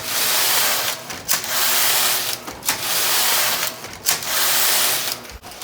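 A Passap E6000 knitting machine knits rows: its carriage swishes and whirs loudly across the bed in long sweeps, separated by brief clunks and pauses at each end, with no voices.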